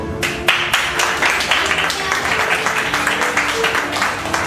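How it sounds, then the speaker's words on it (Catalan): Applause from a theatre audience after a school play, many hands clapping in a dense, continuous patter at close range, with a few louder individual claps standing out. "Moltes gràcies per l'aplaudiment."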